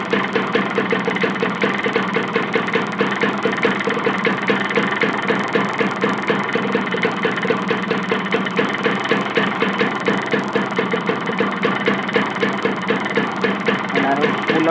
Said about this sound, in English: So I have started the bike.